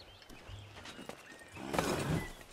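A horse in the video game Assassin's Creed III, with a few soft hoof thuds and a brief whinny, fairly quiet and close, no talk.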